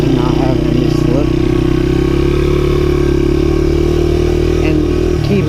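A Honda XR100R dirt bike engine runs loud and close on wet ground, holding a steady droning note with slight rises in pitch, while someone talks over it.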